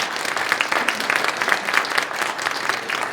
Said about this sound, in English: Let's get a round of applause for our panel.